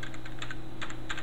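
Someone types on a computer keyboard with quick, irregular key clicks over a faint steady hum, close and fairly quiet.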